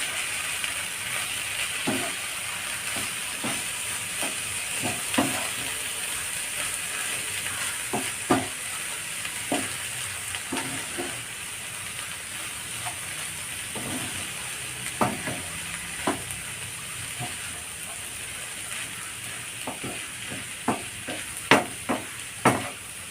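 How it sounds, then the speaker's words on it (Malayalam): Cabbage masala frying in a pan as salt goes in and a spoon stirs it, a steady close sizzle and hiss broken by irregular scraping clicks of the spoon against the pan. "ഇതിലേക്ക് ഞാൻ ആവശ്യത്തിനുള്ള ഉപ്പ് ഇട്ട് കൊടുക്കുന്നുണ്ട് നന്നായിട്ട് ഇളക്കിയെടുക്കാം"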